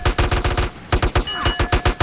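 Rapid automatic gunfire sounds in San Andreas Multiplayer, very loud and close. Two bursts of sharp evenly spaced shots are split by a brief pause, with no talking over them.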